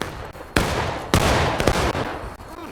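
Musket gunfire in the War of Rights video game, with several loud, sharp volleys cracking out close by in quick succession over a few seconds, followed by scattered single shots.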